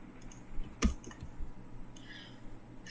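A single sharp computer mouse click during design software work, close and fairly quiet, followed by a couple of faint softer clicks in a quiet room.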